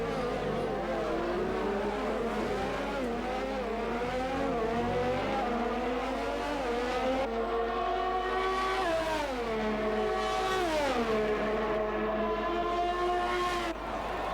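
Formula 1 race cars in the F1 2020 video game scream along on hot laps, engine notes rising and falling through gear changes as they brake and accelerate, loud and continuous.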